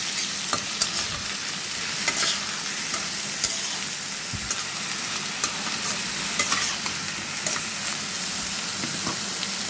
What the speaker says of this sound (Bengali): এখন আমি এই সামান্য তেল দিয়ে এটার ভিতরে বেগুনটা ছেড়ে দেব